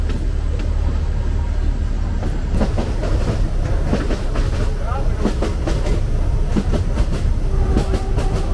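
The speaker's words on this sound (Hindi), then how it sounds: "और यहाँ पर भी एक और पैसेंजर ट्रेन की क्रॉसिंग है।" Passenger train on the narrow-gauge Kangra Valley Railway rolling past, a steady loud rumble with repeated wheel clicks over rail joints throughout, heard from close by.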